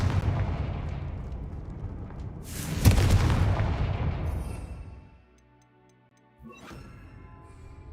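Heavy, booming blasts from the Confringo explosive spell in Hogwarts Legacy, with dense rumbling impacts and a loud sharp burst midway, then a sudden drop to near silence and a short crack with a faint ticking tail.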